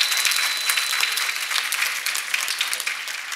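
Conference audience applauding the session chairs, a sustained even wash of many hands clapping at moderate distance with no talking over it.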